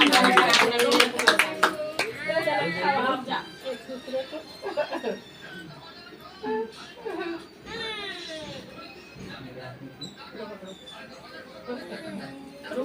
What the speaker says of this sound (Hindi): ताली बजाओ रे भाई।